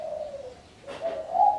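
A perkutut, or zebra dove, coos from a hanging cage, giving a soft, fairly close call, a brief pause, then another rising coo phrase.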